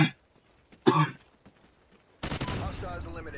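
A person coughing and clearing their throat, two short close bursts, then a loud burst of gunfire from a Call of Duty Ghosts match after a brief quiet gap.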